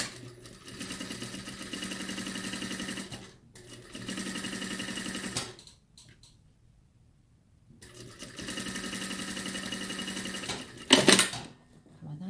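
A sewing machine stitches a zipper pocket in three runs of rapid, even mechanical chatter, separated by pauses, with a brief clatter near the end.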